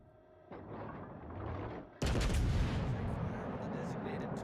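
Video game gunfire, a burst of shots that starts quietly and then swells into a loud, dense barrage of rapid reports in the second half, continuous and close.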